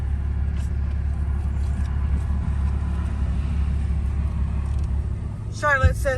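A truck engine rumbles low and steady while driving, a constant close drone through the whole stretch, with a brief voice near the end.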